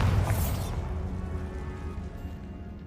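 A blasting spell in Hogwarts Legacy goes off with a sharp burst and whoosh at the start, then a rumbling low tail that fades away over a couple of seconds.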